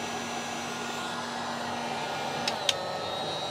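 A heat gun runs off a battery power station, a steady airy blowing whir holding constant, with two brief faint clicks near the end and no speech.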